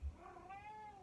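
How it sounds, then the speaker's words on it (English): A pet cat gives a single soft, rising-and-falling meow, faint and close, with no talk over it. "Yeah, little India, my kitty says hi."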